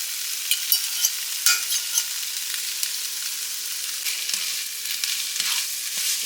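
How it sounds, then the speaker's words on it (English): Drained ramen noodles hit a skillet on medium heat and sizzle steadily. The frying hiss stays close and constant, broken by light scrapes and pops as the noodles settle, and no one speaks. "You want to take your noodles that you have drained and you want to put those right in the pan."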